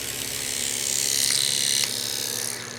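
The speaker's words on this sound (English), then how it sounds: "I need to drill a hole through this just like I did in the other" A power drill bores a 1 1/4 inch hole through a wooden tenon disc, giving a steady, close whirring hum that rises slightly midway as it bites through, then eases off at the end.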